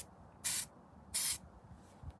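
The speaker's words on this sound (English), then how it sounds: "we need to spray the inside of this mould with silicone mould release" Silicone mould release spray hissing into the inside of a mould, two distinct close bursts of roughly a quarter second each, separated by a short pause, with a faint rustle at the end.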